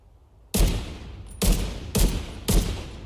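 Gunfire in the video game The Division 2: four loud, sharp bursts of shots spaced roughly half a second to a second apart, each with a short ringing tail, and no talking.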